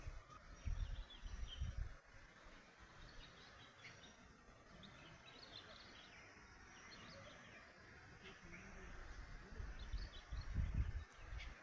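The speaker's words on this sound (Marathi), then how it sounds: "इथल्या पक्ष्यांचे कानावर पडणारे मंजूळ स्वर" Faint bird calls and chirps drift through a quiet forest ambience near a waterfall, with occasional low rumbles and rustling in the background.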